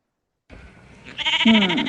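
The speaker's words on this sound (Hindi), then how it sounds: "बकरी की आवाज" One goat bleats loudly and close by, a wavering nasal cry that follows a brief rustle and rises in pitch before trailing off.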